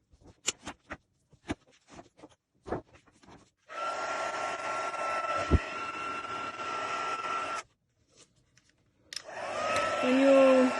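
A heat tool for heat embossing blows with a steady whooshing, humming drone, switched on for several seconds, off, then on again, close and loud after a few light taps and clicks.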